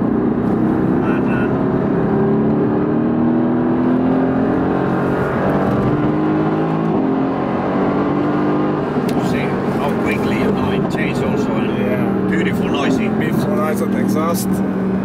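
A Mercedes-AMG GT S V8 on a race track growls and revs hard through rising and falling gear pulls, loud and close from inside the cabin, with people talking over it.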